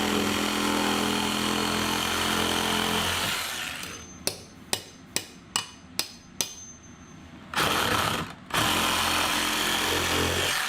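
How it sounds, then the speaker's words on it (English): Steady mechanical drone drops away, then five or six sharp, evenly spaced impacts from a rotary hammer ring out, followed by a couple of longer bursts of loud machine noise. "Roto hammer."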